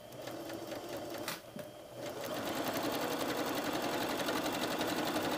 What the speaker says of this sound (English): Do you notice how I let the machine sew for itself?